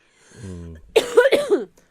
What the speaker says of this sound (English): we have this persistent cough that doesn't go away